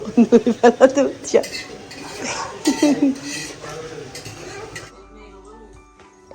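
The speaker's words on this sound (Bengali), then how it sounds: "আন্টি সবজি ভাজি করতেছে আর তরকারিগুলো গরম করে নিচ্ছে" Pots and pans clatter in a home kitchen as vegetables are fried and curries reheated: quick metallic clinks and scrapes of utensils at first, then softer stirring, with voices talking nearby.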